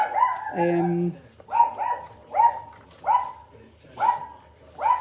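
A dog barks repeatedly in a steady rhythm, roughly one bark every second, fairly close, with a brief electronic tone near the start.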